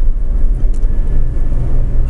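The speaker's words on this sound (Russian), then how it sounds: "Hybrid Electric автобус проехал." Hybrid electric bus passing on a road, heard as a steady loud low rumble of engine and tire noise with broadband road roar and no talk.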